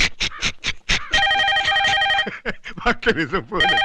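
A telephone rings with a bright repeating electronic tone in two bursts, interleaved with people talking over it.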